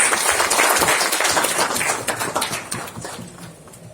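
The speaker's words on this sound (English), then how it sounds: "Please welcome with a resounding applause." Dense applause from a large crowd at a gathering welcoming Minister Nitin Gadkari, steady and loud at first, then gradually thinning and fading toward the end.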